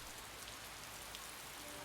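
Steady rain falls in a scene from the video game Piofiore, a dense, even hiss of drops on a surface that holds constant and fairly soft throughout, with no voices.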